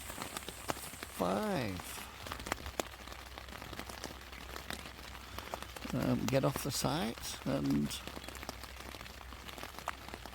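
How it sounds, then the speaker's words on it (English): Steady rain patters on the fabric of a one-man Atom 1 tent, a dense, even hiss throughout, with a voice speaking briefly over it. "the rain's going to be setting now for another 3 days"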